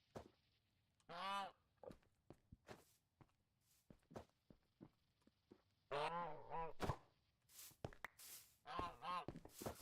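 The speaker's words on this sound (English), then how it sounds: "just found a goose" Footsteps and blocky thuds in the Minecraft modpack Enigmatica 2 with a goose honking several times in short, nasal, close calls.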